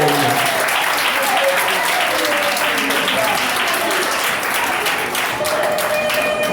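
A crowd applauds a magistrate at a Christmas-season speech, with loud, dense, sustained clapping that holds steady for the whole stretch.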